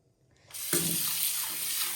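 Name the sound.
running water while washing beans for soaking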